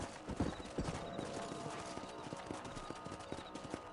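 Horse hooves clip-clop at a steady trot in the Red Dead Redemption video game, rhythmic thuds under a dense bed of ambient game sound, moderately loud throughout.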